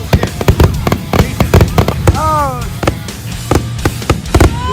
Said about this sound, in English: In this video, there will be a lot of fireworks.